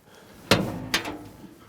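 A small door on a tractor's cab cage opens or shuts with two sharp metallic clacks about half a second apart, close and brief against a quiet background.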